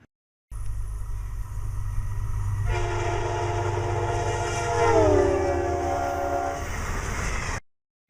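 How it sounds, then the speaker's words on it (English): A train passes an observer: a steady rumble swells as tonal horn-like components bend downward in pitch while it goes by, then the sound cuts off abruptly; loud and close, no voices. "an object which was producing a sound when moving toward an observer, such as a train, would produce a higher pitched sound as the object approached an observer"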